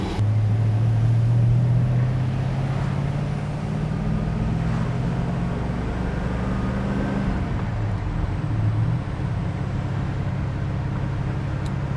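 A 1969 Pontiac GTO with a 400 cubic-inch engine and four-speed manual cruises at about 50 mph, its steady low engine drone blending with road and wind noise from inside the cabin, no talking.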